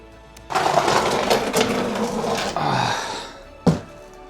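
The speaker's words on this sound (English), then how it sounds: "Nothing beats a little bit of persuasion with the love hammer and the impact gun on a slow speed" An impact gun on slow speed works a stubborn undertray screw loose on a Volkswagen Golf, giving a loud, sustained rattling whirr in bursts over a few seconds, followed by a short sharp knock near the end.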